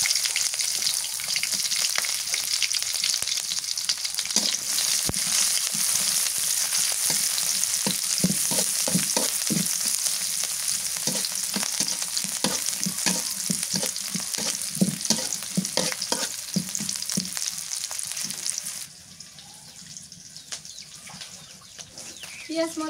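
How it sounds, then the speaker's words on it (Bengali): Chopped onion and green chilli sizzle and crackle in mustard oil in a pan, a steady loud frying hiss with stirring scrapes throughout, easing quieter near the end. "পেঁয়াজ মরিচ ভাজা হয়ে গেছে।"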